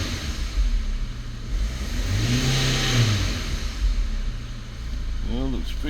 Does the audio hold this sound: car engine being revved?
yes